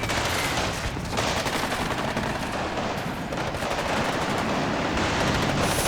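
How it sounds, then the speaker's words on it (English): Dense, chaotic combat from flamethrower sappers opening fire in the wartime strategy game Warno, a continuous clatter of gunfire and blasts in a city fight, loud and unbroken. "Flamethrower sappers come up and open fire."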